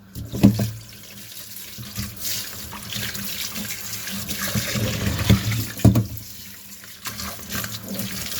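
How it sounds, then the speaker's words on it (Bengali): Tap water runs steadily into a kitchen sink as coriander leaves are rinsed, with a few louder splashes and handling knocks over the continuous flow. "ধন্যপাতাটা আগে ধুয়ে নিই"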